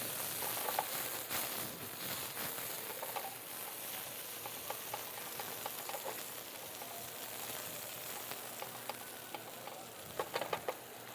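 Meat sizzling steadily in a hot pan or wok for a Thai-inspired stir-fry at a live cooking demonstration at an agrifoods and garden show, with continuous crackle and occasional sharper pops and scraping ticks throughout.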